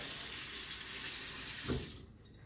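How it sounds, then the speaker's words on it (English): Very hot water runs steadily from a kitchen tap for a bowl of yeast roll dough, a continuous close rushing stream that cuts off near the end. "I just heat it up I let it run so that this is very, very hot water"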